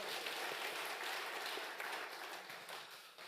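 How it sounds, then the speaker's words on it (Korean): A church congregation at a men's prayer meeting applauds in praise, a soft, fairly distant wash of many hands clapping, brief and steady without speech. "자, 우리 하나님께 한번 영광의 박수 드리도록 하겠습니다"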